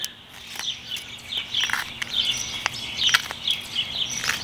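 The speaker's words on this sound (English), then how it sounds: "Hope you like the sounds of nature here. Got a lot of birds out today." Several birds sing and chirp outdoors in a mix of short high tweets and trills, fairly faint and distant over a soft background hiss, with no voices.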